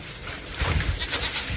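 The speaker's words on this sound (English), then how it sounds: "Come on, goats." Goats being herded into the woods with electric net fencing bleat nearby, their calls rising over a rustling, noisy outdoor background.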